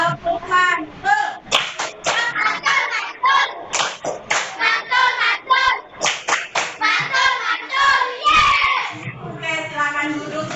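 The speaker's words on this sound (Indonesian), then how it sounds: "Tepuk mantul." Children in a classroom do the tepuk mantul class cheer, crisp unison claps punctuating loud chanted words in a quick steady rhythm, close and lively throughout.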